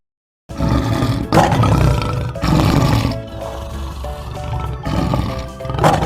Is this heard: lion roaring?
yes